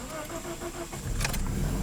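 A 2009 Toyota Corolla with low compression in several cylinders cranks and catches about midway, settling into a close, rough idle after a brief stretch of quiet background; a faint high-pitched jingle rings out as it starts.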